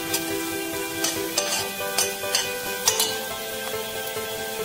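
Steady sizzling of onions and tomato paste frying in a pan, with a few stirring scrapes and light utensil clinks against the pan.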